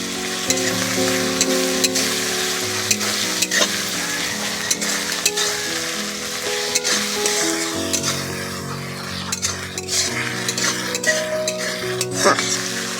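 Chopped tomato goes into a pan of frying hilsa fish, raising a loud, continuous sizzle with repeated stirring scrapes, while music plays underneath throughout.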